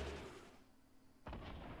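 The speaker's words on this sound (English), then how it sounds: "Oh, it's a shot." Gunfire in a video game: a muffled, distant boom fades out, then a second sharp shot bursts in and rings on. Both are quiet and low-pitched, with no talking.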